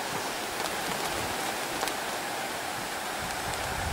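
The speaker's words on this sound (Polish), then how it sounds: "Tylko słychać szum skrzydeł." A soft, continuous whooshing rush of a pigeon flock's wings beating together as it takes off from the loft, steady and broadband with no voices.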